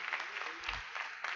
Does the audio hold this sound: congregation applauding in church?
yes